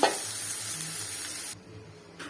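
Spices roasting in a hot pan while being stirred, a steady dry sizzle and scraping hiss that drops off partway through, then returns briefly at the end.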